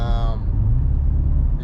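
An Audi RS7 engine idling after a cylinder 5 misfire repair gives a steady, low, close rumble, with a brief voice at the start.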